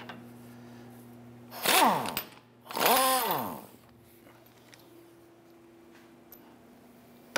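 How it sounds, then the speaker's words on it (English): Power tool whirring as the outer tie rod end nut on a 2011-2018 Ram 1500 is loosened and removed with a 21mm socket, two rising and falling bursts over a low steady hum, no talk. "let's go ahead and loosen and remove that nut."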